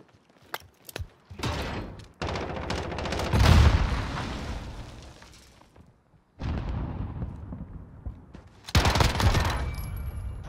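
Uzi submachine gun fire in a Call of Duty search-and-destroy match comes as loud rapid bursts separated by short pauses, with mechanical clatter and heavy impacts. No one speaks.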